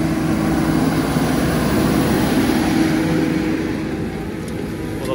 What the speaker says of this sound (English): Just slipping a little bit, the tractor.